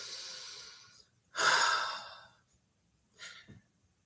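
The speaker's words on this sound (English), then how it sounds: "Take a deep breath." A deep breath: a long, loud exhale, then a shorter, fainter breath about two seconds later, close and alone with no talking.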